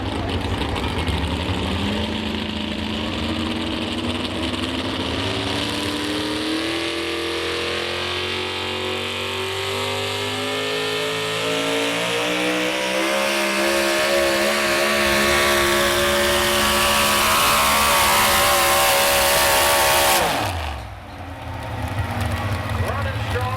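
Chevrolet pulling truck roars at full power during a truck and tractor pull at Lebanon, its engine pitch climbing steadily for about twenty seconds before cutting off abruptly, with an announcer's voice heard under the din.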